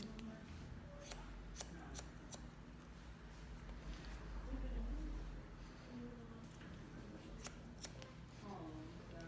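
Scissors snip through hair during a short bob haircut, a series of sharp, crisp clicks spaced irregularly over a quiet room tone, with a soft rustle in the middle.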